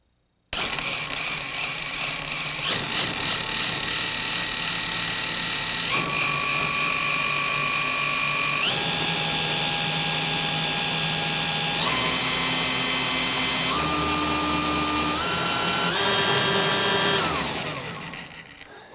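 Cordless DeWalt FlexVolt 60-volt 17-inch brushless string trimmer motor spinning up loud and close, its whine rising in distinct steps rather than smoothly, then cutting off and winding down at the end.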